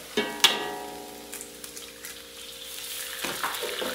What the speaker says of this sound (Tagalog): Hayaan muna natin na medyo mag-brown itong bawang.